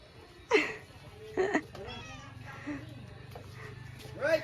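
A cat meows a few times at close range, short separate cries spread across the moment, with people chatting quietly around it.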